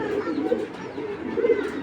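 Racing pigeons, among them a Dobash hen, coo steadily in a low murmuring warble, with soft rising and falling rolls close by and no talk over them.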